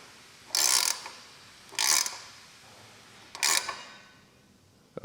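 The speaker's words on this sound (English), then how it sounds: "Just don't want to over tighten because you can break those tabbed washers, so I'm just going until I feel a good amount of resistance." Bolts being tightened during assembly of a Higgs step-thru electric bike, heard as three short bright ratcheting bursts spaced about a second apart, close and fairly loud against a quiet background.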